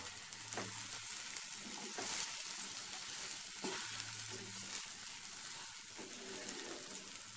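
Rice for pulao is tipped into a hot pan and stirred, giving a continuous close sizzle broken by irregular scraping strokes and a few light knocks, with no voices.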